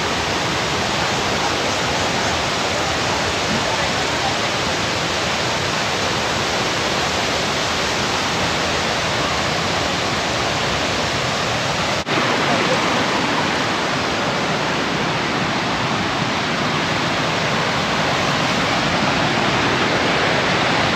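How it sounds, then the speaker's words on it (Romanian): Kuang Si waterfall in Laos roars as a steady, loud, dense wash of falling water that fills the whole stretch without pause and with no voices. "Cea mai frumoasă cascadă din sud-estul Asiei."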